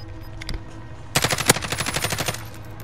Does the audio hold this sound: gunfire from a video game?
yes